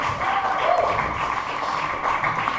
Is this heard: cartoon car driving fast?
no